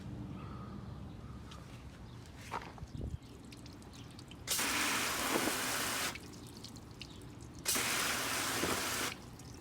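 Water splashes over the door handle of a BMW Z4 in two loud, steady bursts of a few seconds each, separated by a quieter stretch with faint drips and a bird in the background.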